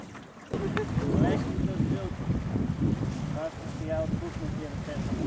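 Wind blows across a sailboat as it turns left with the breeze perpendicular to the hull, giving a steady rushing and buffeting roar with splashing water, and voices talk over it throughout.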